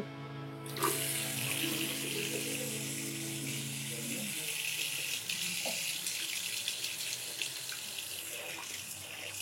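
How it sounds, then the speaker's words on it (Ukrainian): Hot water gushes steadily from a tap in a university dormitory, a broad continuous hiss that starts abruptly near the beginning and runs unbroken to the end, fairly loud and close, with no talking. "А в гарячу воду ми перевіримо."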